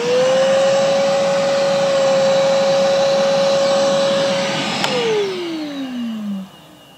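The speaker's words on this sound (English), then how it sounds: "excuse me for a moment while I finish vacuuming my car" A vacuum cleaner running while a car is vacuumed, a loud steady whine with a high motor tone that drops in pitch and winds down as the machine switches off near the end.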